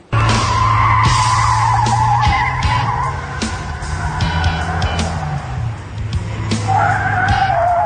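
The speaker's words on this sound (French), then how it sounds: "je ne comprends pas comment la voiture a pu démarrer toute seule" An unattended car starts and drives off by itself, tyres skidding and squealing over a steady, loud engine drone that surges and dips for several seconds.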